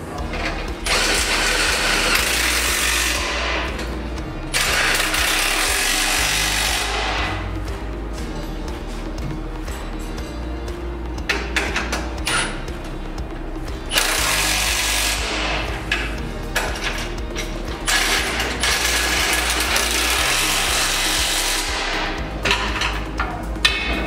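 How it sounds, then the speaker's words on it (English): Mounting bolts on a Rockarmor bull bar fitted to a Nissan GU Patrol Y61 being tightened with an 18mm tool, loud bursts of power-tool whirring in several spaced runs with metallic clanks and rattles in between. "I'm just going to go through with an 18mm and tighten them all up"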